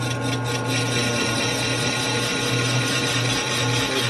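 A Harley shovelhead cylinder is machined while a cutter runs steadily and loudly, with a constant droning hum and grinding texture that continues without pause.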